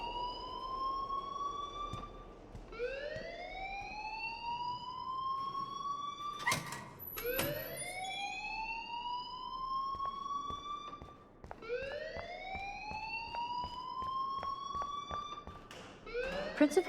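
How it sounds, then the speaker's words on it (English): A school alarm in the video game Life Is Strange wails in long rising and falling sweeps, repeating about every four seconds at moderate level with a brief clatter partway through and no speech. "please turn off that alarm since that's your job"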